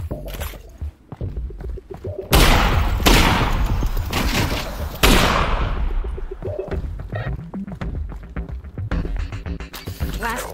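Loud, close bursts of gunfire fill a fight in Half-Life: Alyx, with two heavy booming volleys standing out among rapid shots and clattering impacts.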